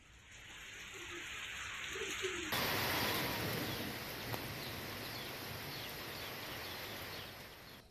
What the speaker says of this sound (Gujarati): નવસારી શહેરમાં વહેલી સવારે વાતાવરણમાં પલટો આવ્યા બાદ વરસાદી છાંટાની શરૂઆત થઈ